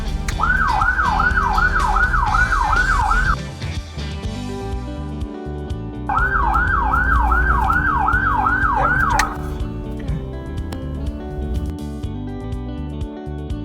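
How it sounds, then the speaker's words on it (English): An emergency siren wails in rapid up-and-down bursts, sounding twice with a pause between, loud over a rumbling engine and road noise. "And you know how to activate the siren?"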